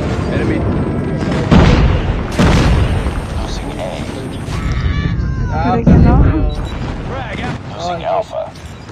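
An enemy airstrike in a battle royale video game, with heavy booming explosions arriving in several loud bursts under excited talking.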